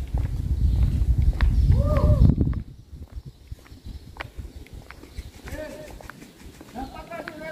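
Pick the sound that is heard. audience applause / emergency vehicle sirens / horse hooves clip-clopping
horse hooves clip-clopping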